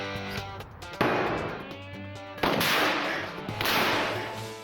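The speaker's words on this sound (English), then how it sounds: "Man, that was a big muzzle flash." Gunshots fired during a MythBusters test of escaping a car trapped underwater, three loud sharp blasts with ringing decays spaced over a few seconds, heard alone without speech.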